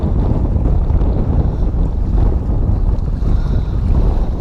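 Strong wind buffets the microphone in a constant low roar on a fishing trip at sea, with rushing sea noise underneath and no voices.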